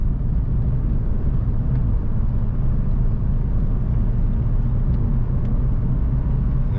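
A 1989 Ford Mustang engine pulls steadily under acceleration in fourth gear, with a continuous, loud, low rumbling drone and road noise heard from inside the car and no talking.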